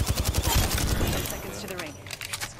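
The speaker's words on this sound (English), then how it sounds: "Shoot a bullet." Rapid gunshots in Apex Legends, a quick string of sharp close shots at the start followed by scattered bursts later, with a player's voice talking over the action.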